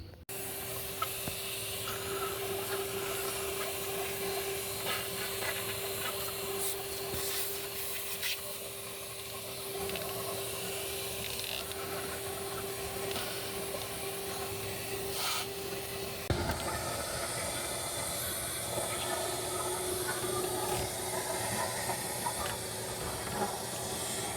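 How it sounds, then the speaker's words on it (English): Steady whooshing hiss of a vacuum cleaner running nonstop at close range in the engine bay of a 2013 Chevy Tahoe 5.3L, with a constant motor hum that shifts slightly partway through. "I'm gonna use a vacuum cleaner and do a little cleaning"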